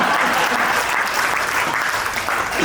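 A crowd applauding at a Hindi comedy poetry gathering, hasya kavi sammelan, a loud, dense and steady clapping that fills the hall without any speech over it.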